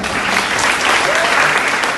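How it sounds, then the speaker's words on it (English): Audience applause at a girl child celebration event in Nigeria, dense and even clapping from a crowd, fairly loud and continuous without pause. "People should clap. Let's clap."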